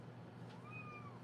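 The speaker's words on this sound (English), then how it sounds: "Oh, do you hear my kitty?" A pet cat gives a single faint, rising-then-falling meow in a quiet room, heard at a distance over low background noise.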